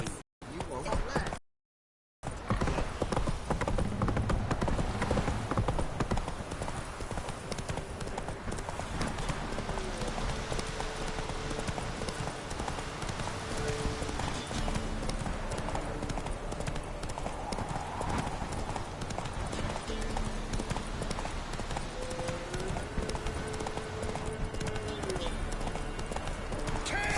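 A horse gallops in The Witcher 3, its hooves drumming in a fast, steady rhythm that runs nearly the whole time after a brief dropout near the start. Game music and speech sit underneath.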